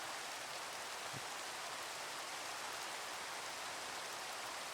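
Steady rain falls in the video game Minecraft, a constant broadband hiss that fills the whole clip at an even, moderate level with no talk over it.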